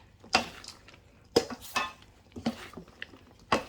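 Creamy broccoli salad is stirred with a mayonnaise dressing, a spoon clinking against the bowl in sharp, irregular knocks with soft wet scraping between them, close and alone.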